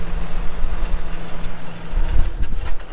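A front mower engine runs steadily with a low, throbbing idle and a slight knocking rhythm, its tone shifting and rising toward the end, loud and close with no voices.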